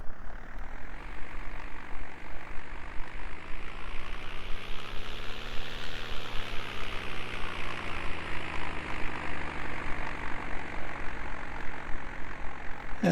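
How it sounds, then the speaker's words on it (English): A Husky tow plane engine in Condor 3 spins up from start, its propeller drone rising in pitch to a peak and then settling into a steady, loud, close running hum with no talking. "Just waiting for the Husky to start up. We'll hear it in a moment."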